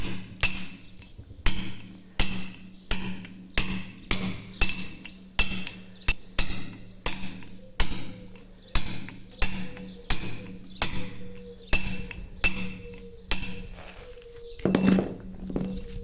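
Hammer striking a steel chisel to carve stone, a steady run of about twenty sharp ringing blows at a regular pace, close and clear, with no talking over the strikes.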